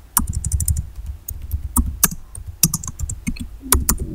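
Close computer keyboard typing of an HTML h1 tag while coding a Ruby on Rails app: quick, irregular clusters of crisp key clicks with brief pauses, fairly loud and alone.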